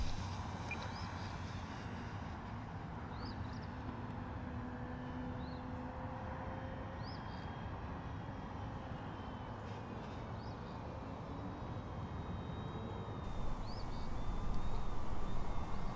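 A Skynetic Bison XT STOL RC model airplane with a 1750 mm wingspan climbs for a stall test on its maiden flight. Its electric motor whines faintly from a distance, rising and falling, over steady outdoor background noise.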